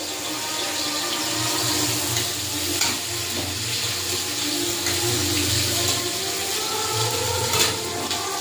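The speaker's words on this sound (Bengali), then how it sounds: "পেঁয়াজটা হালকা ভাজা ভাজা করে নেব।" Chopped onion frying in oil in a wok with black cumin seeds, a steady close sizzle and crackle running throughout, with faint scraping of a spatula now and then.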